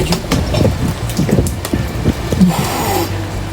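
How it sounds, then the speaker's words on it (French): Heavy outdoor downpour, a steady dense hiss of rain with a brief gust of wind layered in near the end, loud and continuous throughout with no talking. "Il pleut vraiment très fort."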